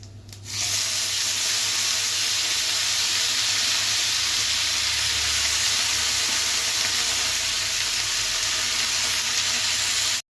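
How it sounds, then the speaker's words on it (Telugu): Fresh Guntur red chillies, washed before frying, sizzle steadily in a hot pan, a loud continuous hiss and crackle that starts abruptly and holds even throughout. "మిర్చితో ఇలా వేగింది. ఇలా వేగితే సరిపోతుంది."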